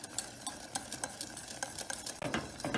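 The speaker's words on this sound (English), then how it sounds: "Just keep whisking" A whisk scrapes and taps quickly against a saucepan as coffee-flavoured cream thickens, a close, irregular series of light metallic clicks and swishes.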